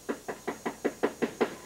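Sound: knocking on a front door

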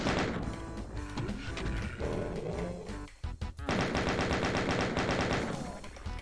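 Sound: gunfire in the video game Final Doom

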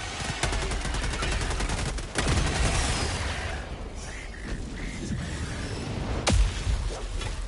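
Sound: gunfire from the video game Helldivers 2

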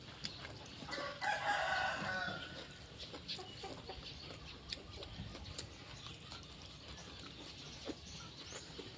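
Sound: chickens and roosters clucking and crowing

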